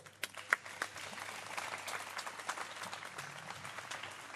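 Clapping from an outdoor audience standing in the cold at a live radio broadcast, faint and somewhat distant, a few sharp claps at first thickening into a soft, continuous patter.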